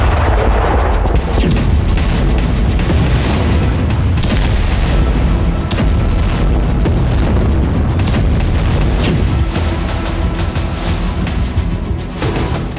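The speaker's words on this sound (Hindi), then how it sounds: "बस एक ड्रोन से रूस में हो रहे हैं ऐसे धमाके।" Repeated heavy explosions from Ukrainian drone strikes in Russia boom one after another, loud and rumbling, with sharp cracks between the blasts.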